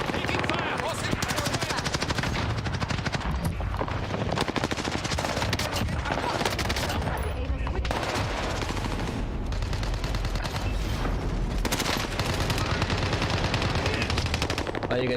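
Automatic weapon fire in the Call of Duty Warzone battle royale game, dense rattling bursts with heavy low booms running almost continuously, loud and close, with a player occasionally talking over it.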